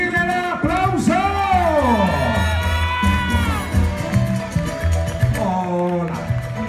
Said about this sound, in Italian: Voglio sentire l'applauso!